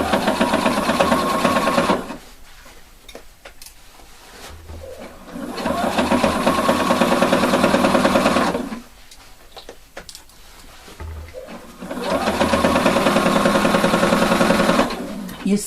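Sewing machine stitching an elastic waistband, running in three loud steady whirring bursts separated by quieter pauses with handling and light clicks.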